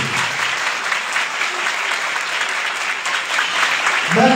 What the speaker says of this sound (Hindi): जोरदार ताली बजाएं उसके साथ में